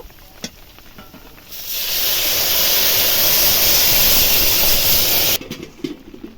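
A loud, steady hiss as hot water is poured into a pan of fish curry with elephant foot yam, swelling suddenly, holding for several seconds and then cutting off sharply.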